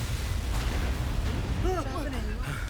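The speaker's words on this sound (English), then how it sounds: "What a big explosion!" A big explosion in a Filipino action movie, the Bass Pro Shop pyramid blown up, heard as a dense, loud low boom and rolling rumble that fills the whole stretch, with a person's voice talking over the tail end.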